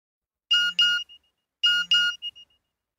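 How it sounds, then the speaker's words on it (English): Two short electronic beep chimes from a mobile phone, each a quick pair of tones, clear and close in an otherwise silent room. "My mobile phone beeped."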